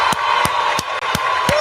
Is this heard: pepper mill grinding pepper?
no